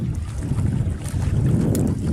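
Wind blowing across a boat on open water during carp fishing, heard as a steady, loud low rumble and buffeting against the microphone, with no talking.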